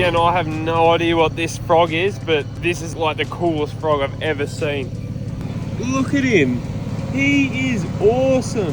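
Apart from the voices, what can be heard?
noise inside a car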